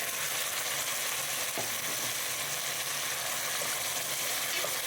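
Sprouted beans, eggplant and potato stirred into hot oil in a pan give a loud, continuous sizzle with the odd clink of a spoon against the pan, close by and without talk.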